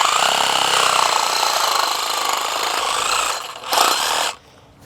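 A power tool cuts a steel chain link fence rail pipe to length with a loud, harsh, continuous grinding whine that dips briefly, surges again and then cuts off into quiet, with no talk.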